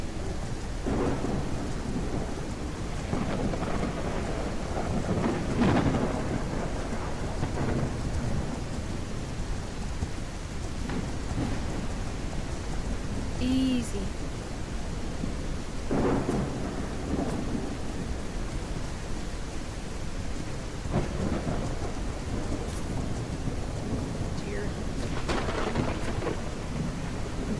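Steady, heavy rain pours throughout a thunderstorm in the Legend of Khiimori game, with repeated rumbling thunder rolls. A brief voice is heard once.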